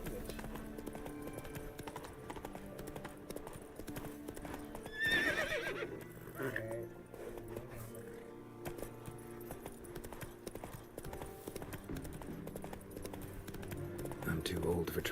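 Horse galloping in The Witcher 3 video game, with continuous rhythmic hoofbeats and a sharp neigh partway through, fairly quiet, under game music and a voice.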